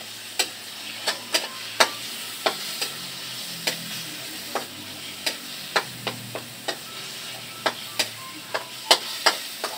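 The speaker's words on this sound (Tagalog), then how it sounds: "Guys, ilalagay na natin yung giniling. Initin na natin guys yung kalan." Ground meat fries in a pan on a stove with a steady soft sizzle, punctuated by regular sharp taps of a spatula or spoon against the pan, about two per second, close and moderately loud.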